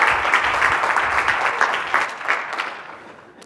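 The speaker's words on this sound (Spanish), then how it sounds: "Un aplauso para él," Applause for a speaker at a medicine talks event on innovation and entrepreneurship, a full round of clapping from the crowd that is fairly loud at first and tapers off over a few seconds.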